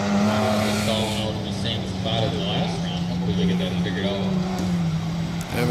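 A compact race truck's failing engine drones loudly and unevenly throughout, with a steady low hum and occasional sputters, close by, at a dirt track.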